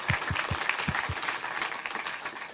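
Audience applause in a hall during a speaker introduction, a dense even wash of clapping, with a few low thumps near the start, and no speech audible over it.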